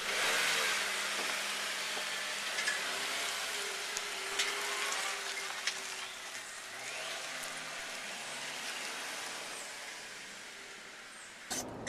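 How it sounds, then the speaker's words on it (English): A car drives along steadily on the way to UMass Lowell, heard from inside as a continuous broadband road and engine rumble with faint ticks and rattles and no talking, ending in a brief bump. "so we're driving to UMass Lowell"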